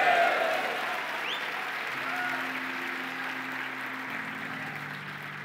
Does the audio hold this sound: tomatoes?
no